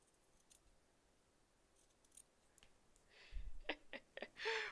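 Embroidery threads on an elephant design trimmed with scissors: a few faint snips early, then a quick cluster of sharp close cuts near the end over quiet room tone.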